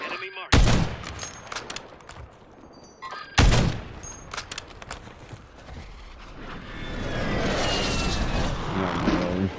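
Gunfire in Call of Duty MW3 Warzone, two loud sharp shots a few seconds apart ringing out close, followed by a rising roar like an engine or aircraft, with brief voices in between.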